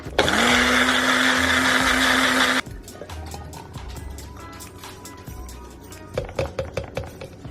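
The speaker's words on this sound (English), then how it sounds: "I'll put in my juice, lemon juice, and blend it again." A kitchen blender whirs loudly and steadily for over two seconds, blending a pineapple, lemon and onion smoothie with lemon juice, then cuts off, followed by close clinks, taps and handling clatter.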